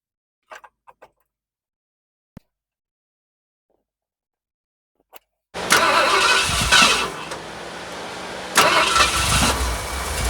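A 1978 Ford Bronco on 35-inch tires cranks and catches after faint clicks and a thump in near silence, then settles into a loud, steady rumbling idle with a brief revving swell partway through.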